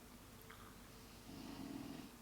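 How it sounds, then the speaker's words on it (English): Faint, low snoring from a dog, a soft rumbling breath that swells toward the end, quiet and close. "that's a snoring dog in the background"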